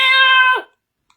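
A cat gives one long, close, loud meow with a steady tone that drops away near the end, followed by silence and a brief faint rustle.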